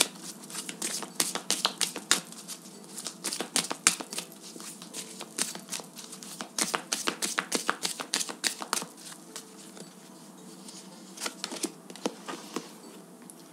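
Oracle cards shuffled and laid out by hand: rapid bursts of crisp riffling flicks and slaps, close and fairly quiet, with short pauses between shuffles and no talk.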